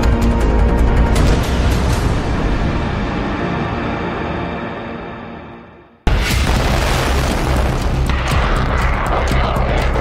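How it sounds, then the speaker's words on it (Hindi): A loud, sustained grenade explosion on a boat, a roaring rumble that fades, then a sudden second blast of heavy rumbling noise. "एक बड़ा धमाका होता है"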